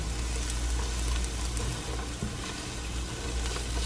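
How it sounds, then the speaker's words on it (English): Two pounds of ground beef and celery browning in a pot, giving a steady, close sizzle and crackle that runs without pause and with no voices. "I am going to pour that into the pot, and we're gonna brown it, and then we're going to add our meat"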